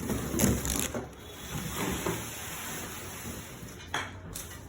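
A VIRTUS Alpha A electric bicycle is lifted out of its cardboard shipping box, making a few close clattering knocks and light metallic rattles, with quiet shuffling between them.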